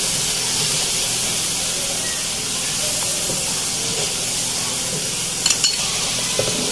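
Yogurt and cream masala roasting in a pan for dhaba-style dahi bhindi, a steady steamy hiss with soft sizzling and a couple of brief spoon clinks near the end, close and fairly loud, no talking.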